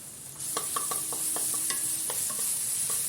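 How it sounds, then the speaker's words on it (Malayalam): Crushed ginger and garlic sauté in hot oil with a steady bright sizzle, while a spoon scrapes and stirs the pan in a quick series of clicks and taps close by. "ഈ ഇഞ്ചിയും വെളുത്തുള്ളിയും അതിൻ്റെ പച്ച മണമൊക്കെ ഒന്ന് മാറുന്ന വരെ ഒന്ന് വഴറ്റി കൊടുക്കണം"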